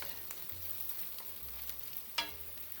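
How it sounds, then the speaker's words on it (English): Ginger and chilies frying in a pan over a high flame, giving a steady soft sizzle with faint stirring scrapes and one brief sharper clatter near the end, no voices. "And then fry the ginger and the chilies just for a minute."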